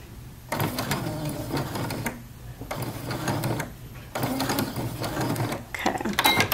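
A sewing machine stitches a zipper in short bursts of rapid mechanical whirring and clatter, with three or four runs separated by brief pauses, close and clear.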